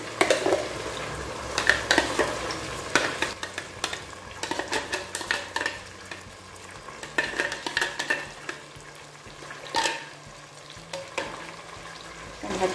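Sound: grated tomatoes being added to a pot and stirred

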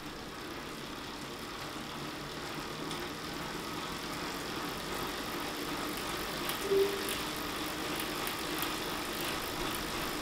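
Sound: Saris H3 smart trainer drivetrain spinning and changing gears

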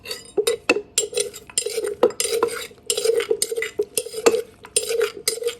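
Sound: pounding durian papaya salad in a mortar

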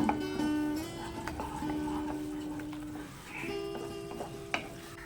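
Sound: spices frying in oil

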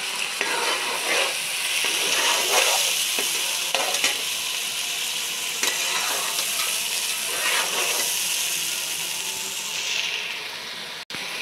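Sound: meat frying with garlic ginger paste

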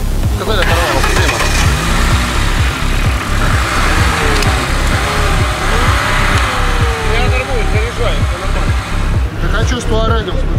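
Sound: Lada Niva engine cranking on a jump start

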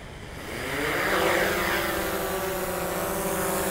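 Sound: DJI Mavic 2 Pro drone starting up and taking off

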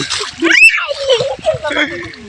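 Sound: people swimming and splashing in water

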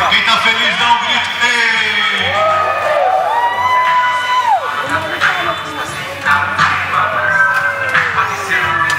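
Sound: crowd shouting and cheering

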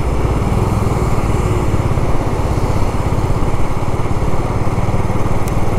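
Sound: Bajaj Avenger 220 motorcycle riding

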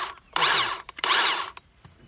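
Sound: Makita electric chainsaw running

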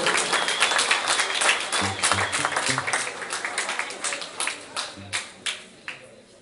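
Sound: wedding guests applauding

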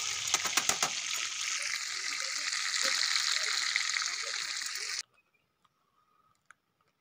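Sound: murumeen fish frying in a pan, coastal style

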